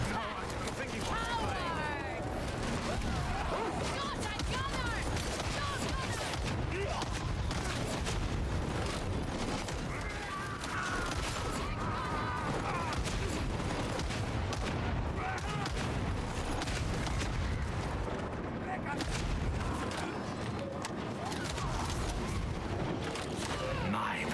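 Bolt pistol gunfire and heavy booming shots from the video game Warhammer 40,000: Darktide in co-op play, dense and continuous throughout, mixed with game effects and people talking.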